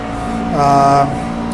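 A McLaren GT3 race car runs flat out on Bathurst's Conrod Straight in a racing sim. Its engine gives a steady, buzzing harmonic drone that swells and climbs briefly in pitch before settling, close and loud.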